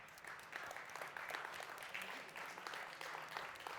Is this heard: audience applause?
yes